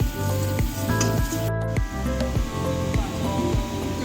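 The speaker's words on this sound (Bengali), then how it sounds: "রসুনটা একটু ভাজা ভাজা হয়ে এলে" Garlic sizzling with turmeric in a hot pan, a dense, steady frying hiss with repeated scraping stir strokes throughout, close and loud with no talking.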